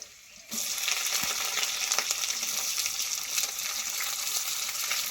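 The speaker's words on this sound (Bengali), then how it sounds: "পেঁয়াজ ভাজা ভাজা হয়ে এসছে, মানে অল্প ভেজেছি।" Chopped onions tipped into a pan of oil with lightly fried garlic, bursting into a loud, dense, continuous sizzle that holds steady close up for several seconds.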